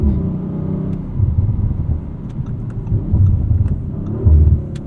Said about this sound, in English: fun noises from the exhaust there.